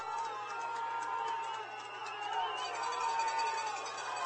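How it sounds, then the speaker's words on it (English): Stadium crowd noise at a football bowl game on a third down, a steady, fairly distant roar of many voices with a low constant hum underneath, without clear peaks. "there is noise in the stadium. Crowd is pumped up"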